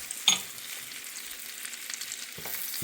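Butter sizzles in a skillet while French toast fries, a quiet steady hiss with one sharp clink near the start and a faint scrape later, no talking.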